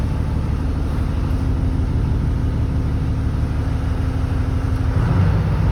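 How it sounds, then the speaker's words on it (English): A Cat 315 BL excavator diesel engine with a failed electronic throttle runs loud and steady at close range, then picks up and revs higher near the end as the throttle is turned. "So let's turn the throttle, see what happens."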